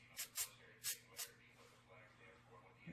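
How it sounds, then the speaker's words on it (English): Rust primer sprayed from an aerosol can onto a Toyota AE86 under rust repair, four short hissing bursts in quick succession, then quieter faint hiss and rustle. "I put some rust primer spray on there, and I'll go ahead and touch that up as well"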